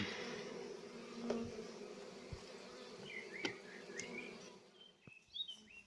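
A bee swarm flies around a Warré hive outdoors, a dense steady buzzing hum of many insects with individual bees zipping past close by, and faint bird calls in the background.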